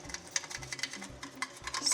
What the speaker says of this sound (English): scrub out all of the gunk